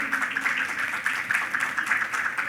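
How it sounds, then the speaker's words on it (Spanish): At a panel event on metropolitan transport in Trujillo, a seated audience welcomes the panel with sustained applause, a continuous, even roar of many hands clapping at moderate loudness with no voices over it. "vamos a pedirles un muy fuerte aplauso para recibirlos"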